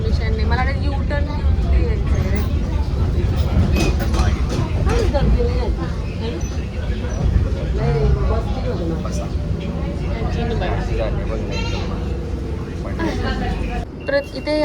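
Busy street traffic of electric rickshaws, buses and bicycles, a steady broadband rumble of vehicles and babble that continues throughout, with people talking over it.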